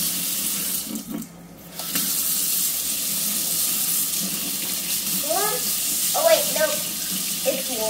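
Cold water runs steadily from a tap into a sink, a loud close hiss that briefly cuts out and resumes, with a voice speaking over it near the end.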